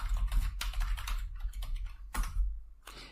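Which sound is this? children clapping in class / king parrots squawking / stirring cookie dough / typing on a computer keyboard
typing on a computer keyboard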